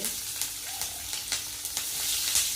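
Mustard seeds, cumin, curry leaves and green chili crackle and sizzle in hot oil for an egg biryani tempering, a steady bright frying hiss with small pops and a spoon tap or two; no talking.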